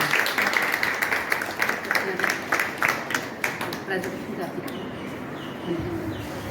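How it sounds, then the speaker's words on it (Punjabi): Students applaud at a project exhibition at a women's ITI in Nawanshahr, a dense burst of group clapping that thins out after a few seconds, with voices talking underneath. "ਇੱਕ ਵਾਰੀ ਤਾੜੀ ਮਾਰ ਦਿਓ ਸਾਰੇ ਆਪਣੇ ਲਈ"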